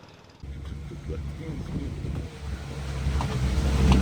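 Strong wind buffets the microphone in a steady low roar that swells toward the end, with an engine droning underneath.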